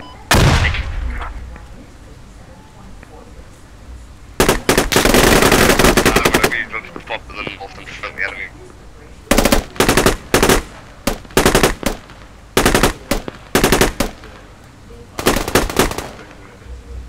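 Automatic weapon fire in the military shooter game Squad comes in repeated sharp bursts of varied length, loud and close, with short quiet gaps between volleys and faint background activity.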